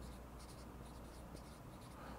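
An answer being written on a board during a lesson, with a short run of faint scratchy strokes over a low hum of room noise.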